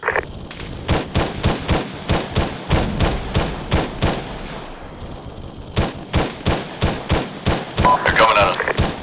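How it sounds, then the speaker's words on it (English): Arma 3 combat gunfire: a dense run of sharp, loud shots and bursts crackling close by for about nine seconds, with a short lull in the middle and heavy firing resuming toward the end. "I'm taking fire."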